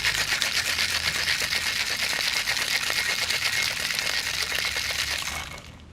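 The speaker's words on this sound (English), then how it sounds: "you want to make sure you really shake it so you can get the blueberries to break through and get that flavor" A cocktail shaker packed with ice and blueberries is shaken hard, a dense, rapid rattling that continues loudly for several seconds before stopping abruptly near the end.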